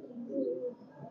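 A red-necked pigeon gives a single low, soft coo at close range, with a brief rolling swell before it fades into quiet.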